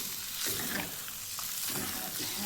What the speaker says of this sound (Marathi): आता हे शिजतं आहे बघा छानपैकी